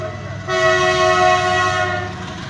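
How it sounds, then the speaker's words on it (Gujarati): A train rolls past a closed railway level crossing while a vehicle waits at the barrier, its horn sounding a loud, sustained multi-tone blast that swells in and holds for about two seconds amid rumbling wheels and background noise. "ગાડી ઉભી રાખી દીધી છે, ટ્રેન નીકળે છે, ફાટક થઈ ગઈ છે બંધ"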